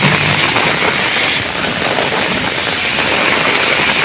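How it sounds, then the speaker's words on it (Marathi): Heavy rain pours steadily and loudly near a bus stop, a dense unbroken hiss of drops striking surfaces close by. "पाऊस खूप जोरदार चालू आहे."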